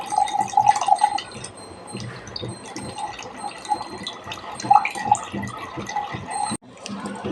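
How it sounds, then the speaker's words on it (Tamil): Water from soaked green gram (mung beans) pours off into another vessel, a continuous trickling splash with small drips, fairly close, stopping abruptly near the end. "இதில் இருக்கிற தண்ணியெலாம் வடிச்சிடணும்."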